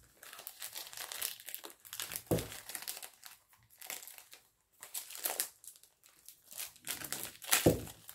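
Plastic wrapping being torn open and peeled off a new notepad from a craft parcel, crinkling and rustling in irregular bursts with a couple of louder crackles, close by and without talk.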